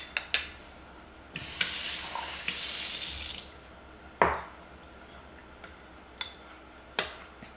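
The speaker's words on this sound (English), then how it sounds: "so I'm going to get a little bit more water" A kitchen tap runs in two short bursts to add water to pizza sauce, with scattered clicks and drips before and after. The sounds are close and moderately quiet.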